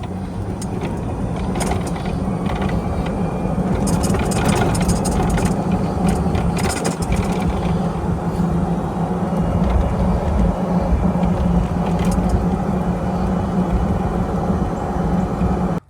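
An EZGO TXT golf cart runs on a Kezimo lithium battery, making a steady close drive hum and rumble for the whole stretch. Faint intermittent rattles and clicks come through over the motor noise.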